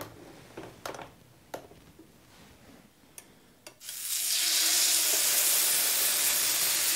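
Steak dropped onto a flat 230-degree sandwich maker grill plate: a few handling clicks and knocks, then a sudden loud, sustained searing hiss filling the rest of the clip.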